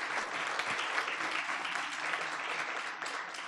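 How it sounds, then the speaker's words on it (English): Dense, sustained applause from an audience at a book launch for Wole Soyinka, a steady wash of many hands clapping throughout, with a brief voice rising through it. "Let's give him a round of applause"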